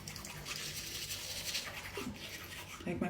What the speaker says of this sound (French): Avec ma petite brosse à dents en bambou.